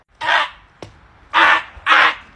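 A person imitates a bird's caw with three loud, harsh calls, close to the microphone and separated by short pauses, with a brief sharp knock between the first two.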